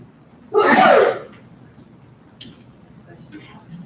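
A single loud, sharp sneeze close by, followed by quiet room tone and a few faint sounds.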